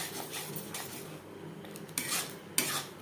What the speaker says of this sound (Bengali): অবশ্যই নাড়াচাড়া করে দিতে হবে যেহেতু বাদামের পেস্ট রয়েছে নাহলে তলা লেগে যাওয়ার সম্ভাবনা থাকতে পারে